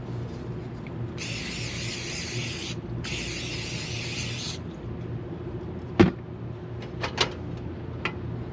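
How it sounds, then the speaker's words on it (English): Two long hissing bursts of cooking spray from a can, each about one and a half seconds, with a short gap between, over a low steady hum at a car camping cookout in Florida, followed by a few sharp clicks and knocks. "I got my cooking spray."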